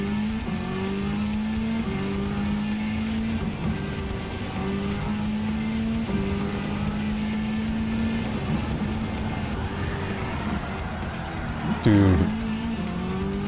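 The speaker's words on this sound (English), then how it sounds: "We can just swing right around with a drift." A slow truck drifts around a corner in a racing video game, its engine droning steadily before a sharp tire squeal near the end, with someone talking over it.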